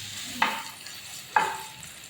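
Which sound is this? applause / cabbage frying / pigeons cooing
cabbage frying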